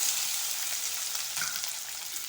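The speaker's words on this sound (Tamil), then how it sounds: "இது நல்லா வதங்கி வரட்டும்" Medium-cut tomatoes sauté in a pan for a snake gourd kuzhambu, a continuous close sizzle with faint stirring scrapes and no voices.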